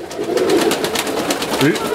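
Pigeons coo softly and repeatedly close by at a dovecote on the Mezhyhirya estate, their low burbling calls rolling over a steady background with faint outdoor noise.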